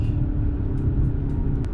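Steady low road rumble and tire noise inside a 2024 Lexus ES300h hybrid driving in traffic, a constant moderately loud drone with no talking.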